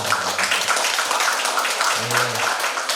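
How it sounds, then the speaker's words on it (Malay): A seminar audience breaks into steady, lively applause, the dense patter of many hands filling the room while a voice speaks faintly underneath. "kita berikan tepukan yang meriah"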